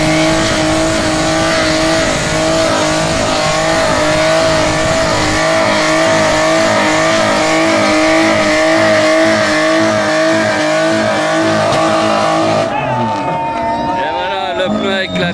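At a car show in Baltar, Portugal, a car revs hard in a burnout with a loud, continuous engine roar and tire noise, then the sound cuts sharply as the tire bursts.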